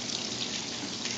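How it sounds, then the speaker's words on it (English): Filtered water pours steadily from a tap as beans are rinsed, a close, even gush and splash with no talking. "When I rinse my beans,"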